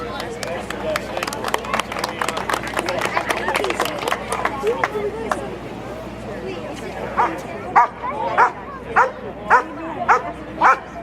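A police dog barks in a rapid, energetic run during a safety-day demonstration, the yips and bow-wows close and loud over crowd noise, giving way to a steady series of distinct sharp barks near the end.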